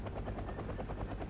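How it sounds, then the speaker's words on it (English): A supply helicopter in the real-time strategy game Wargame: Red Dragon gives a steady rotor drone with a fast, even chop, close and constant for a moment with no talk. "I've got this supply helicopter here"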